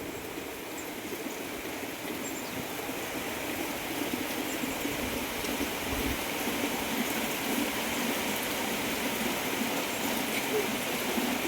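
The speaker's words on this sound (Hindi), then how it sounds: "अभी बारिश हो रही है, दूसरी बार बारिश हो गई है।" Steady rain falls in the hills of Uttarakhand, a dense unbroken hiss of drops that holds at an even, moderately loud level throughout.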